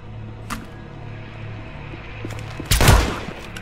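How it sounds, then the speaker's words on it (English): Gunfire in Hitman Absolution: a steady low rumble with a faint crack early on, then one loud, close gunshot burst near the end, with no talking. "Someone is firing a gun over there."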